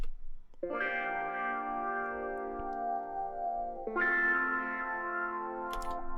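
A sustained synth chord with a sweeping, filtered wah tone from a Funk 80 wah preset that shifts to a higher chord near the end. No voices are heard.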